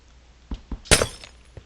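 Glass block breaking in Minecraft, a few soft knocks leading into one sharp, bright shattering crack, followed by a faint final tap.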